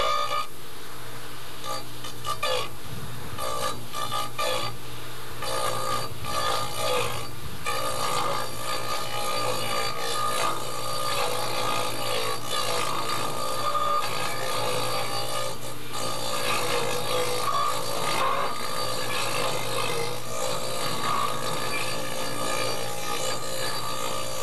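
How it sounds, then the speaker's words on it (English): A tenonizer cuts a round tenon on a log for log furniture, a continuous loud rasping, grinding drone with rough scraping pulses as the cutter works the wood, steady and close with no talk. "then just slowly draw it back and finish the tenon cut"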